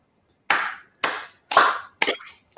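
Firm hand claps with pressure, four loud, evenly spaced claps about half a second apart, close and dry with no voices.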